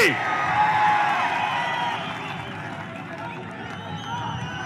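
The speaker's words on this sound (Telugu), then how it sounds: "గట్టిగా చప్పట్లు కొట్టి హర్షాన్ని ఆమోదాన్ని తెలియజేయాలి" A large crowd at a Chandrababu Naidu political rally cheers and shouts in a dense, continuous roar, with whoops rising above the steady mass of voices and faint clapping mixed in.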